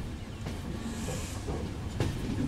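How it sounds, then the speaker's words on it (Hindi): Rajasthan Humsafar Express carriages rolling along the rails give a continuous rumble with faint rhythmic clatter, heard alone without voices. "ये आबू रोड का एल्को लोकोमोटिव"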